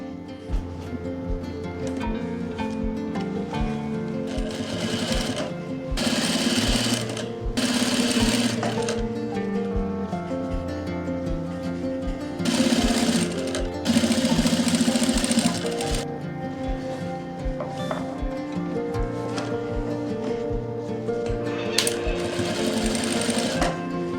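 Up close, a sewing machine stitches a zip onto a kurti, its quick rhythmic needle clatter running in several long bursts with short breaks, and no one speaking.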